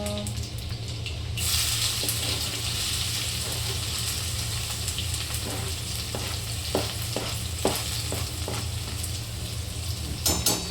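Onion tipped into cumin, mustard seeds and garlic frying in oil sets off a dense, loud, continuous sizzle up close, with occasional soft scrapes and clicks of a spoon and no voices.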